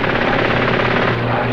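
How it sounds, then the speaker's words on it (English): An obsolete loyalist biplane flies over Spain, its propeller engine giving a loud, continuous pulsing drone that stays steady and close throughout. "An obsolete loyalist biplane flying in Spanish skies"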